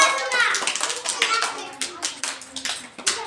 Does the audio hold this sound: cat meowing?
no